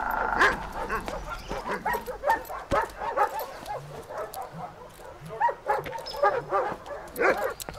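A German dog barks and whimpers in repeated short yips amid a dubbed Second World War film scene, with people talking around it.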